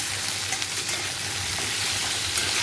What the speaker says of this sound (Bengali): একটু ভেজে নিই কুমড়াটা।